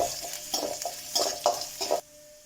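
Dried chillies, curry leaves, garlic, chana dal, urad dal and mustard seeds frying in a pan for a beetroot and bean thoran, a few short crackling pops and stirring scrapes close up, then quiet.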